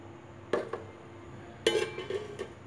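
A steel plate of dhokla batter set onto a stand inside a pot of boiling water on a gas stove, giving two sharp metallic clinks with a few lighter clatters between them, close by and otherwise quiet.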